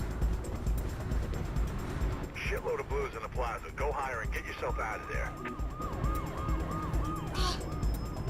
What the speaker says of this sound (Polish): Oczywiście wszędzie nas polują. Syreny, helikopter.